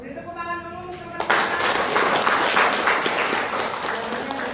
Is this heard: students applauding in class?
yes